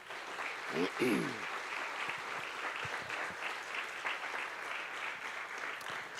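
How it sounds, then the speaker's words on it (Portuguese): A church congregation applauds the Lord during a celebration service, a steady wash of clapping that carries throughout, with a brief sung or spoken voice rising near the start. "Você pode aplaudir ao Senhor?"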